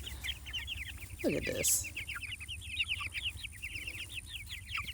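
Meat chickens cluck in quick, repeated bursts close by, a steady chattering chorus that runs throughout while a person speaks briefly over it.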